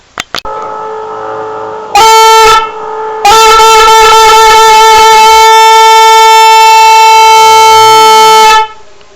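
A loud, blaring trumpet-style horn sounds in two blasts, a short one followed by a long sustained one lasting several seconds, after a couple of faint clicks.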